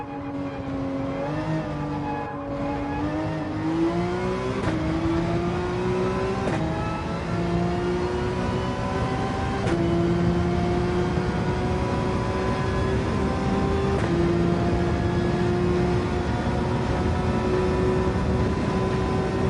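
A Porsche race car engine in a racing video game time trial revs steadily through the gears, with rising pitch sweeps broken by sharp upshifts, loud and close throughout, with no voices.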